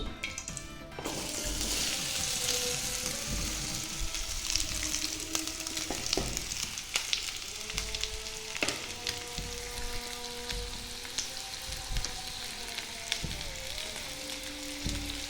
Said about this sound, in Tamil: எண்ணெய் சூடு வந்த பிறகு வெங்காயத்தை வெங்காயத்தை போட்டுக்கலாம்